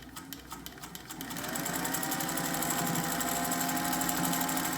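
Singer 201-3 sewing machine stitching, starting with slower rhythmic needle ticks that quickly rise into a fast, steady, close motor whir with dense regular stitching.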